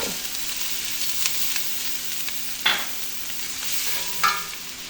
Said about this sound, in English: Now I'm ready to add in my 4 tablespoons of butter. I want to get that melted and then make my roux.